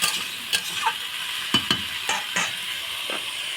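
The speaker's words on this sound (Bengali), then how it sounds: "তারপরে 2 মিনিট নাড়াচাড়া করে" Food frying in a pan and being stirred, a steady sizzle broken by several sharp scraping strokes of a spatula, close and clear with no talk.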